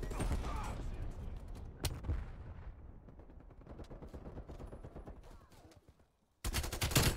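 Rapid gunfire bursts from Call of Duty: Cold War, loud and close, with dense shots and brief impacts filling most of the stretch, a short pause, then another heavy volley at the end.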